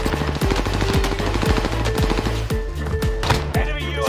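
Submachine gun fire in Warzone, rapid bursts of sharp, evenly spaced shots repeating throughout, loud and close, with a few tonal game sounds mixed in.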